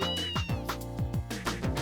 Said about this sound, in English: Antoine says, cat noises.